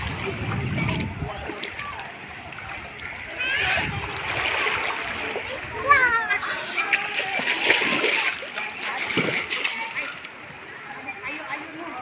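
Water splashing and sloshing nearby as people swim in the sea, with voices chattering throughout.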